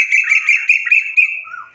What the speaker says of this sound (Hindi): शायद कोयल बोल रही है